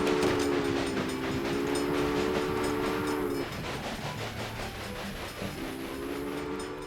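Trains run through a Railway Empire layout, with a steady low rumble of moving rail cars and long sustained horn or whistle tones that pause midway and then return, with no voices.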